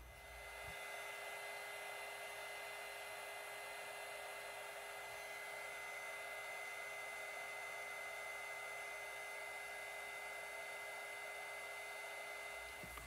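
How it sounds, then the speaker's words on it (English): A heat gun blows with a steady, even whooshing hum as it heat-sets embossing powder on a craft project, running continuously and close after a short start. "now I'm gonna use my heat gun to heat set this"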